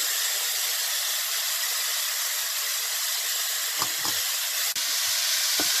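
Vegetables hit a hot pan after meat has been stir-fried on high heat for a shepherd's pie filling. A loud, steady sizzle and hiss runs the whole time, with a few brief clatters near the end.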